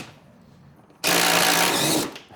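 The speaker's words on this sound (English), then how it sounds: "we'll have to take these bolts loose." A power tool whirs on a mower's bolts, one loud burst of about a second after quiet, then it winds down.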